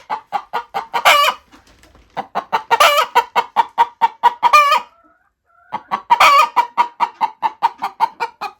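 Several hens cluck loudly and continuously, close by, with bursts of sharper squawking calls rising over the steady rhythmic clucking.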